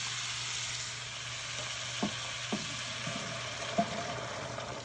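A beef base sizzles steadily in a hot pot for a pot roast, a close, even frying hiss with a few soft knocks of stirring.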